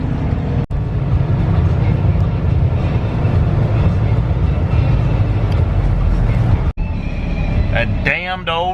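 A train in Louisville rumbles and clatters steadily as it blocks a road crossing, heard from a waiting truck; the broad low roar continues throughout, with brief dropouts and a voice speaking near the end.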